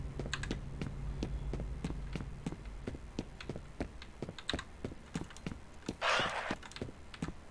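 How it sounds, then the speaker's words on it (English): Rapid keyboard typing and mouse clicks from a PC gamer playing F.E.A.R., a dense run of sharp close taps in quick irregular succession, with a short burst of noise near the end. "Hopefully, like, my clicking and key smashes aren't too loud."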